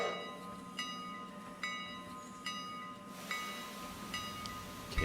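Locomotive reversing in the RailRoader train game, a steady low rumble and hiss under repeated sharp metallic clanks at roughly regular intervals, moderately quiet with no talking.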